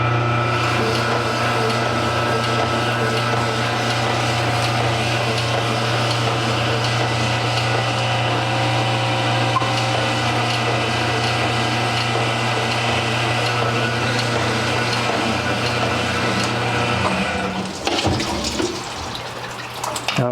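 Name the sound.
cylinder hone with abrasive stone honing engine cylinder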